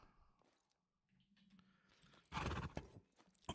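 A horse in the survival video game Rust, with clip-clop hoofbeats and a whinny, quiet at first and then a loud burst of hooves and neighing close by.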